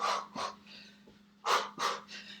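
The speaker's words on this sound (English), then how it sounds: "Make sure you're breathing out." Forceful breaths out during a home cardio strength workout, a series of sharp, close exhalations in an uneven rhythm with quieter breathing between them, no talking.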